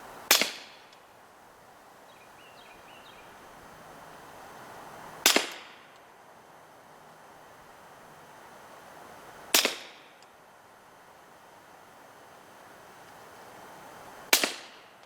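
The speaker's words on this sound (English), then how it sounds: "that was with some subsonic 22 long rifle" A suppressed CZ rimfire rifle fires subsonic .22 Long Rifle rounds: four sharp, muffled cracks, each spaced about four to five seconds apart with a brief decaying tail, close and alone without any talk.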